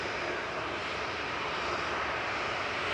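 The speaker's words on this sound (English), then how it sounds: "KLM's going next, back to Amsterdam, 737-800 here, with flight 1036" A KLM Boeing 737-800 on departure from Manchester Airport bound for Amsterdam gives a steady, broad jet-engine roar at moderate distance, unchanging throughout with no voices.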